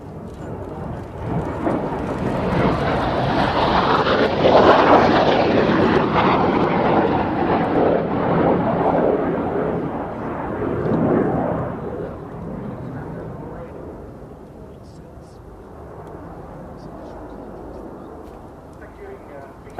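A Lockheed F-117 Nighthawk passes at an airshow, its jet roar swelling loud overhead and then fading slowly into the distance. People talk at points beneath the engine noise.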